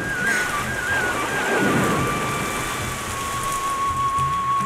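Steady, loud rain pours down over the ground as a thunderstorm breaks, with a low rumble of thunder swelling briefly partway through and a faint tone running beneath the continuous downpour.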